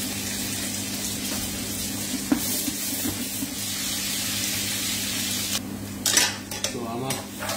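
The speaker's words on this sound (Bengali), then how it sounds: "পেঁয়াজ ঢেলে দিলাম, অলিভ অয়েল" Onion frying in olive oil in a hot pan, a steady sizzle under clinking utensils and pan scraping, with a few sharp metallic knocks and brief stirring sounds.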